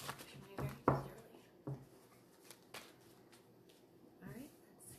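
Tarot cards are shuffled up close in a few soft, quick riffling bursts and taps, quiet and intermittent, with a person speaking softly between them.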